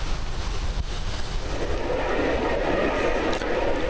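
Boat wakes wash against the shore of a narrow inlet, a low rumbling surge of water with wind buffeting, swelling gradually and continuing without pause.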